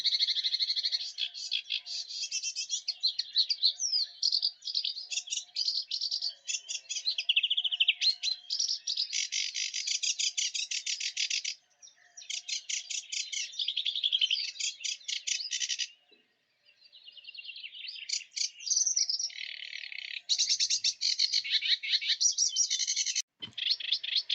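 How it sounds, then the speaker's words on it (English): A sedge warbler sings a rapid, varied string of chattering and grating phrases, switching often between them in fairly continuous bursts with a few short pauses, heard alone and at moderate distance. "Sedge warbler song is a rapid series of a seemingly random collection of phrases which it frequently changes between."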